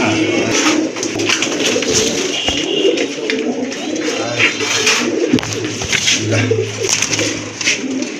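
White Tiger running pigeons coo steadily and close by, overlapping calls repeating throughout amid a busy, noisy background.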